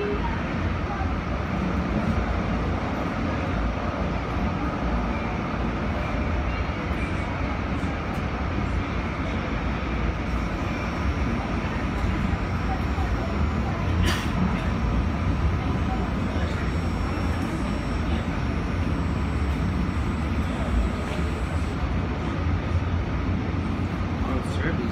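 A Siemens SD160 light rail train runs along the rails in a continuous, loud rumble that stays steady throughout, with faint rattling on top.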